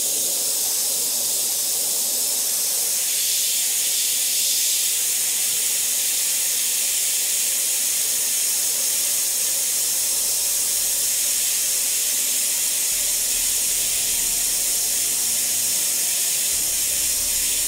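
An airbrush sprays Trident Blue paint over the cloak of a Grim Reaper miniature, a steady close airy hiss running continuously with no speech.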